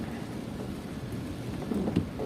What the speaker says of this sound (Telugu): ఈ వర్షంలోనే డ్రైవ్ చేసుకుంటూ వెళ్తున్నాము